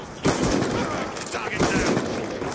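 Gunfire in a Call of Duty-style multiplayer shooter match, rapid automatic bursts running almost continuously at close range, with a voice heard under the shooting.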